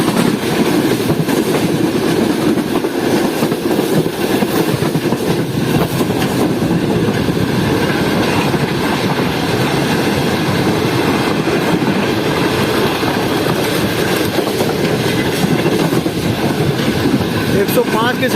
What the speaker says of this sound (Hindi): 105 की स्पीड में इस वक्त ट्रेन दौड़ रही है हमारी।